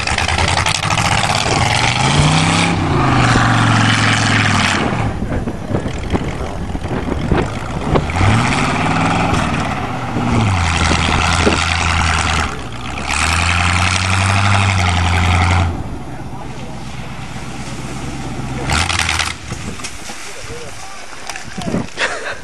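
A Redline car engine revs hard in rising and falling bursts while mudding, loud and close, with stretches of steady rumble between pulls and people talking over it at times.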